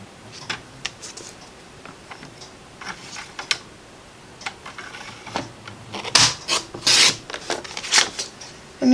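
Paper trimmer blade slicing through cardstock, heard as scattered soft rasping scrapes and rubbing strokes building to a few louder, sharper swipes near the end, with no talk.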